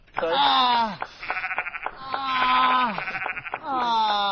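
Sheep bleats cut into a comedic audio remix on a talk radio show come in loud, wavering cries, repeated in quick succession with pitch bends and stuttering edits.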